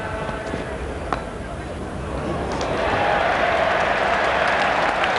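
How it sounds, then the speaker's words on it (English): A cricket crowd at a 1995 England versus West Indies Test cheers and applauds a batsman's half-century: a broad, distant wash of clapping and voices swells and holds steady, with a commentator speaking over it. "Great cheer, not for the best shot of the day, but for Graham Hicks' half-century."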